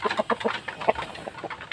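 White Aseel rooster clucks in quick, close, uneven bursts, short throaty notes tumbling one after another with no voices over them.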